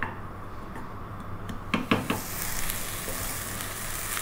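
Onions dry-cooked in a pot for Ethiopian yellow split peas (atta alicha), then hit with olive oil: a few utensil clinks, then a sudden burst of close sizzling that settles into a steady hiss.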